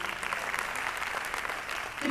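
Crowd applause at an IMC RAS program in Kolkata, a steady wash of many hands clapping at moderate distance for the whole stretch, with faint voices mixed in.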